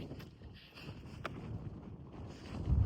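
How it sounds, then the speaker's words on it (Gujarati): Strong gusting wind on a mountaintop in Slovakia roars and buffets the microphone in a continuous low rumble, swelling louder toward the end. "પવન ફૂલ છે"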